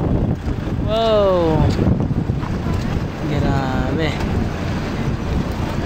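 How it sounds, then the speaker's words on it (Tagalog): Strong wind roars and buffets the microphone at the Bangui windmills, a loud continuous rush heard up close, while people exclaim and talk over it. "Oh, lakas ng hangin."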